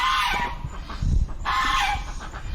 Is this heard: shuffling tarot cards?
no